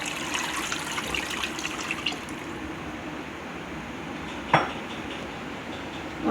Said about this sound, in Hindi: ये गोश्त में मैंने 4 गिलास पानी डाल रही हूँ।